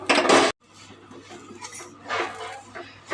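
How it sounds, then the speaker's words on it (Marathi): Desiccated coconut being stirred in a pan over a low gas flame, opening with a loud half-second burst of scraping and clinking, then a short silence and softer intermittent utensil scrapes and clinks. "आता गॅस बारीक करायचं आणि सुकं खोबरं घालायचं. चांगलं त्याला ढवळायचं."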